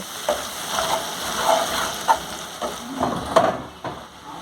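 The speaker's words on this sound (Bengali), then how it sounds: "মশলাটা হালকা আঁচে ভালো করে কষিয়ে নেব" Spice paste for egg curry stir-fries with a little water in a pan on low heat, a soft continuous sizzle broken by repeated scraping and stirring knocks, close and unaccompanied by speech.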